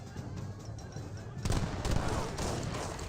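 Musket volley gunfire in the real-time strategy game Age of Empires 3, a dense burst of overlapping shots erupting midway over ongoing battle noise, fairly loud and alone without talk.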